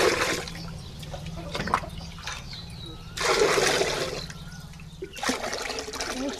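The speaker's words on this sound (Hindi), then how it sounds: "सबसे पहले दीदी एगो बर्तन में 6 लीटर पानी" Water poured into a pot, about six litres, heard as close trickling and splashing in bursts with pauses, over a low background hum.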